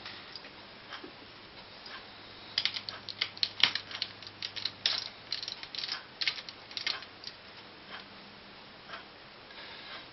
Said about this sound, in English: Unscrew them using the usual regular Phillips screwdriver